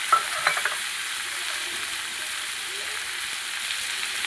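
A paste of ground black mustard, poppy seed and radhuni hits hot oil with ginger, giving a steady soft sizzle and a few light stirring scrapes at the start, with no talking.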